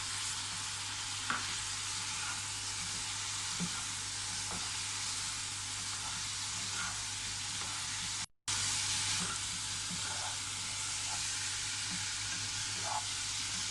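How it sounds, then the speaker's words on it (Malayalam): Sweet wheat kozhakkatta dumplings sizzling in a pan while being stirred, a steady hiss with soft scraping taps, broken by a brief silent gap, close and fairly quiet. "ഇനി നമുക്ക് ഈ എടുത്ത് വെച്ച കുഴക്കട്ട അതിലിട്ട് കൊടുക്കാം"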